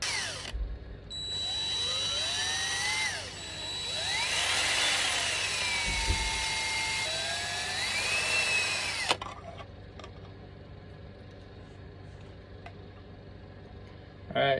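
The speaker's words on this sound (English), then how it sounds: "It looks like I need to drill a pretty good size hole here." A power drill whines loudly for several seconds, pitch rising and falling as it bores into material, then stops, leaving quiet handling noises.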